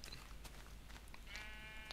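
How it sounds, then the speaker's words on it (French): Sheep in the video game Minecraft bleat once or twice, faintly, over a steady background hum with no talk. "Des moutons."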